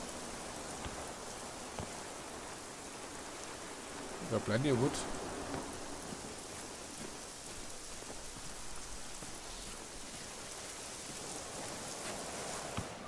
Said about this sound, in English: Is it hailing as well? I think it's hailing.